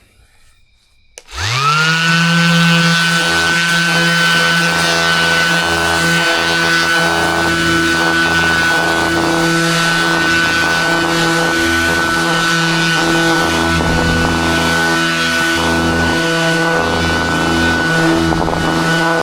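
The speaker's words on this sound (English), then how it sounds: "I'm gonna have the sander angle it right here, just at an angle, and go back and forth with it" Power sander held at an angle, smoothing wood edges on a handmade wedding gift, spinning up after a quiet start into a loud, steady motor drone that holds without a break, close to the microphone.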